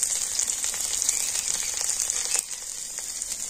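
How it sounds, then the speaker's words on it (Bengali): Chopped garlic fries in hot white oil with a bright, steady sizzle, close and even, easing slightly toward the end, with no talking. "সমস্ত কিছু আমি একটু হালকা করে ভেজে নেব।"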